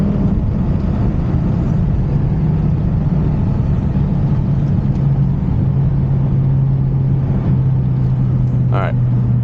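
A BMW E60 M5 with its V10 engine drones low and steady while driving on an open straightaway, a loud, constant rumble with a sustained engine tone slowly shifting pitch.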